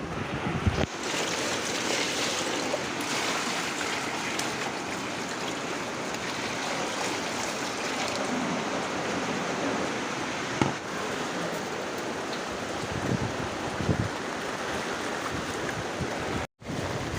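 Rain falls steadily outdoors around a home yard, a continuous, even wash of noise that carries through the whole stretch without letting up, with no speech.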